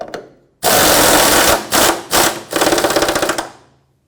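An air impact wrench tightens the fuel tank bolts on a 2008-2010 Ford F-450 Super Duty in several loud, close bursts of rapid hammering rattle. The last and longest burst stutters before winding down.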